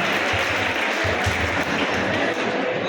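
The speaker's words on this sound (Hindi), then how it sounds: "आप लोग एक बार जरा जोरदार तालियां बजा दीजिए" Applause rises from an audience at a Veer Bal Diwas gathering honouring a speaker, a dense, fairly loud clapping that carries evenly for a few seconds before beginning to thin at the end.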